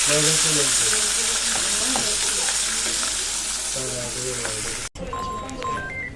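Fish frying in a pan for a home-cooked fish curry, a steady crackling sizzle under quiet voices, cut off abruptly partway through before fainter kitchen sounds.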